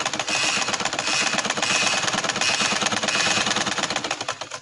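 Sewing machine stitching a trouser with elastic thread, a loud, rapid, continuous mechanical rattle of the needle running steadily throughout, close up and alone.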